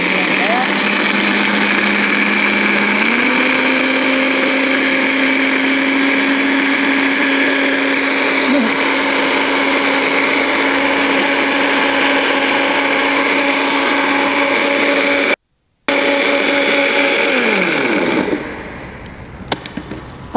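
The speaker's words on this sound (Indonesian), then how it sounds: "mari kita blender untuk kita membuat mayonnaise vegan" A kitchen blender whirs steadily while blending vegan mayonnaise, a loud continuous motor drone that steps up in pitch after a few seconds, briefly cuts out, then winds down and stops near the end.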